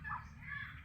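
Ducks calling briefly at close range, a couple of short nasal honking notes over a low background rumble, with no voices.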